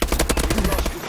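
Loud, rapid gunfire rattles in a shooter video game, a close, continuous burst of closely spaced shots lasting about a second with no talking.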